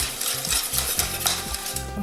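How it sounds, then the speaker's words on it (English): An egg is whisked into a warm lemon soufflé mixture in a bowl, giving quick rhythmic whisk strokes that scrape and tap about four times a second, close and fairly loud, with no voices. "I'm just going to whisk that in"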